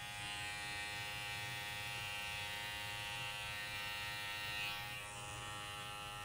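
Electric hair trimmer buzzing steadily while cutting a mannequin's hair in a men's haircut, a continuous close hum with no talking.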